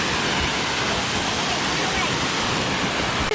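Waterfall at Cloudland Canyon State Park, heard from underneath as a loud, dense, unbroken roar of falling water filling the whole clip.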